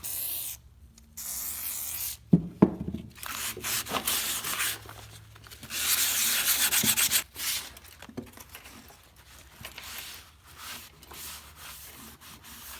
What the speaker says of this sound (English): we'll step on up to 600 grit sandpaper